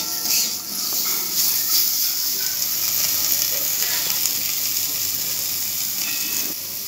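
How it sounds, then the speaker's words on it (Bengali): Turmeric fries in hot oil while dal is being cooked, giving a steady, close sizzle and hiss that holds evenly throughout with faint stirring clicks and no voices. "এরপরে হলুদটা একটু আমি ভাজা ভাজা করে নেব"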